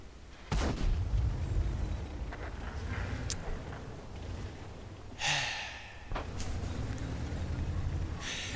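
A tank cannon firing in World of Tanks, with a loud blast near the middle standing out against steady engine rumble and a few sharper cracks earlier on.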